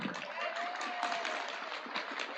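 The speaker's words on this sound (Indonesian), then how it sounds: "Tepuk tangan." An audience at an Islamic religious gathering applauds faintly and steadily, a soft patter of many hands heard from some distance with a thin background tone.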